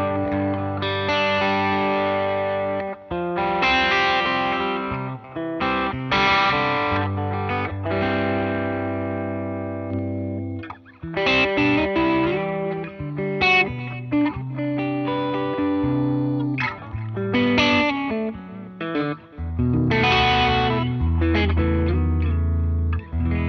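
A Harmony electric guitar played through a Vox AC30 amplifier, with sustained distorted chords and melodic runs ringing loud and continuously with light effects and reverb.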